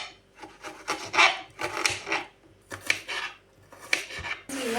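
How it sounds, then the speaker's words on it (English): Knife chopping onions on a kitchen board, a run of close, rasping cuts in uneven bursts with short pauses between strokes. "Just cut them like this and then just start chopping."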